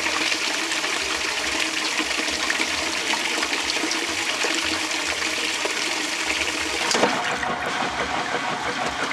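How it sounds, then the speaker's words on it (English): Steady rushing warm spray rinse inside a newer Whirlpool direct-drive washing machine, loud and continuous, with a brief surge and change in tone near the end. "it'll do a warm spray rinse"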